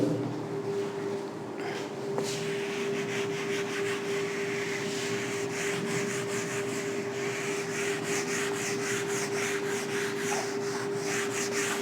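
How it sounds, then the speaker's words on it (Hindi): A duster rubs out writing on a classroom board during a maths lesson, giving a close, steady scrubbing sound made of rapid back-and-forth strokes that carries on throughout with no talk. "उसके लिए मैं ये पार्ट रब करूंगा, यहाँ कराऊंगा आपको"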